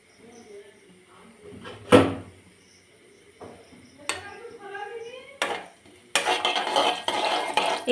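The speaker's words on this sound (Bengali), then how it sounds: "এইবার আমরা এভাবে ভালো করে নেড়ে নেব।" A spoon stirs a pan of thankuni leaf curry cooking in oil with cumin, scraping and clinking against metal in irregular strokes, with brief sizzling and kitchen clatter; a voice speaks at moments.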